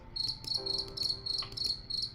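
Cricket chirping in rhythmic bursts of high trills, about eight pulses in two seconds, steady and fairly close, with a faint low hum underneath and no voices.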